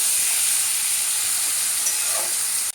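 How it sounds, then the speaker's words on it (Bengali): Prawns frying in hot oil while being turned, giving a steady, loud, dense sizzle throughout with no talk over it. "চিংড়ি মাছগুলো হালকা করে ভাজা হয়ে যাচ্ছে"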